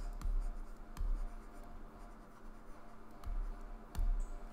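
Chalk or marker writing on a board during a lecture, a faint scratchy stroke texture with short tapping accents at irregular intervals, close and fairly quiet with no talk over it.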